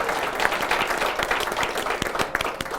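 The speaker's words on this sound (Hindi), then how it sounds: "जोरदार तालियां हो जाए भैया के लिए।" A small indoor audience at a first-aid training session claps steadily throughout, dense, moderately loud applause with no voices over it.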